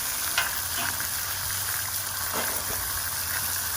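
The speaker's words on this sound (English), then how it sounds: "First, we're gonna throw down some bacon." Bacon sizzles and fries steadily on a hot griddle next to eggs and buns, a constant close crackle with faint scraping now and then.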